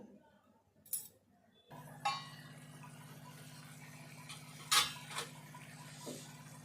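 A lid is set on a simmering pot of Telangana egg curry, giving a short metallic clink and a brief clatter over a steady low stove hum.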